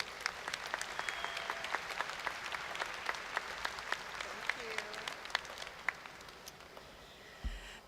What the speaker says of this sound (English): Can we please give Ms. Rhonda Johnson a round of applause as she comes forward?